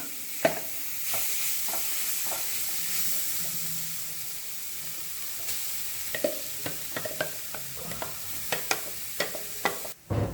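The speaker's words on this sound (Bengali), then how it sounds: "এবার মিশিয়ে নেবো সব কিছুকে খুব ভালোভাবে।" Soya mince is stirred in a frying pan, with a steady soft sizzle under repeated scraping strokes of the spoon that grow more frequent toward the end, close and without talk.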